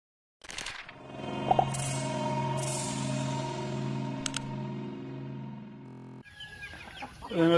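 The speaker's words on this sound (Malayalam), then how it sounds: "ഇപ്പൊ ഈ കാണുന്നത് എൻ്റെ അടുത്ത് ഇവിടെയുള്ള കുറച്ച് കോഴികളാണ്" Chickens on a Kerala poultry farm, including black karinkozhi and native hens, cluck in drawn-out, wavering calls one after another. Sharp squawks and flutters break in near the end, close and clear.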